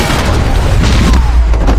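A loud, booming gunshot from the video game Max Payne 3, heavy and sustained, with no voices over it.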